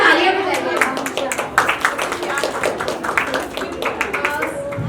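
An audience at a women's day business event claps in scattered, uneven bursts, with voices talking over the applause throughout.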